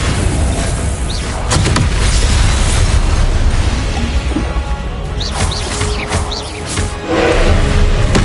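Fire spell Incendio cast during combat in the video game Hogwarts Legacy, with loud, continuous fiery bursts and booming impacts layered over dense game effects, alone with no talk.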